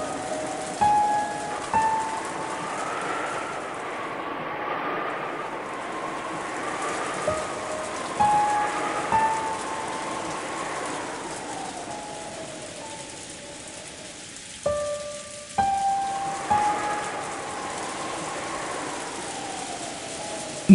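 Steady rain falls throughout, a continuous soft wash of drops with occasional louder chimes and tones layered over it, and no talking.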